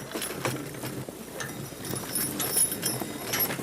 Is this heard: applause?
no